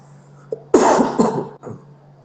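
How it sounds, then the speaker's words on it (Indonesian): A single harsh cough, close and loud, followed by a short rough throat-clearing, with faint hum in the background. "maaf agak batuk"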